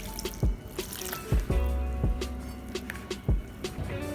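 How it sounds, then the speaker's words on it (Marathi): Water is added little by little to flour while kneading fenugreek paratha dough with onion; close, intermittent drips and small splashes come in irregular bursts over a faint background, with no speech. "आता आपण थोडं थोडं पाणी टाकून मळून घेऊया।"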